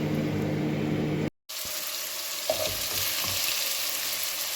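Spices tempering in hot oil for biryani, a steady crackling sizzle that drops out briefly and then comes back as a broad frying hiss with a few faint clinks, close and without speech.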